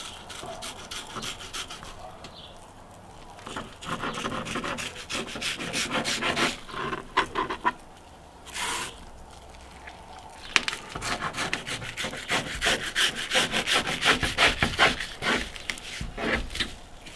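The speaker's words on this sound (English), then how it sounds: "Hold the tail, and then just cut off all the meat." A fillet knife slices walleye meat away from the skin, giving repeated close scraping, rasping strokes in a steady back-and-forth rhythm with brief pauses, alone and fairly loud.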